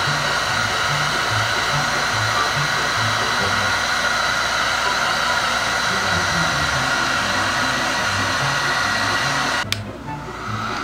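A heat blower runs steadily and loudly at close range, warming the shrink wrap on a vape battery during a rewrap, then cuts off abruptly near the end.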